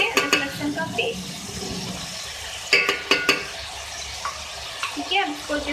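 Ginger garlic paste frying in a pot for beef aloo korma, a steady sizzle with scattered stirring scrapes and a few sharp clinks of utensil against pan, close and moderately loud.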